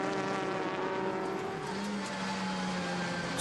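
Race cars, a BMW and a Lotus, lap Circuit Park Zandvoort in the Dutch Supercars series, engines droning loudly and steadily with a rising pitch as one accelerates nearby.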